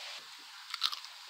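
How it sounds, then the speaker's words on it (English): A single crisp crunch comes from biting into a homemade potato chip, one short sharp crack heard close up and alone. "Hear that crunch? Potato chips?"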